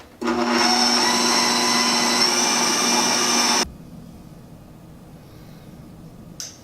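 A stand mixer whips vanilla buttercream frosting with a loud steady motor whir for a few seconds, then cuts off abruptly, leaving quiet room tone and a faint click.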